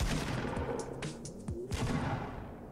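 Bursts of video game gunfire crackle through a busy, steady background during online play, with sharp shots scattered across the moment rather than in one long burst.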